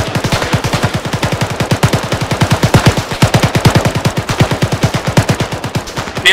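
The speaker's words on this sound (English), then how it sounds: "we're taking shots from out there" Sustained rapid automatic gunfire in the video game ArmA 3 hammers out close and loud in a continuous, evenly spaced stream of shots for several seconds, without talk.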